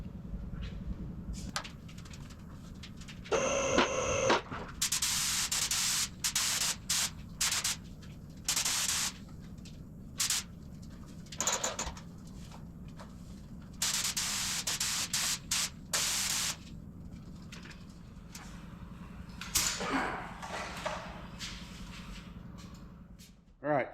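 Spray gun laying a second coat of paint on a car's rocker arms, heard as repeated loud hissing bursts of a few seconds each, separated by quieter gaps.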